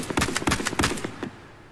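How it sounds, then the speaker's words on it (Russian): A Saiga shotgun fires a rapid series of about eight loud shots in the video game Warface, close and punchy in an uneven rhythm, with a short tail after the last shot. No one speaks over it. "Это Сайга, по-моему."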